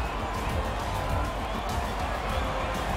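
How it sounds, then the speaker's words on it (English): Crowd cheering at a Formula 1 race in the F1 2020 racing game, a steady broadband roar of spectators that holds evenly throughout without distinct peaks. "they thoroughly deserve the cheers of the crowd here today"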